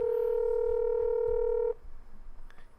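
A single long, steady phone tone plays clearly, then cuts off abruptly, as a call is placed from a phone. Faint room sound follows the tone.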